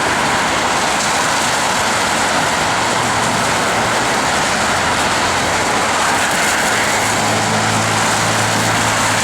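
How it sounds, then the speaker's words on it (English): Diesel trains laying over at a distant Adelaide rail yard give off a steady low rumble and hum under a broad wash of city traffic noise, continuous and moderately loud throughout. "In the distance we can see some diesel trains laying over."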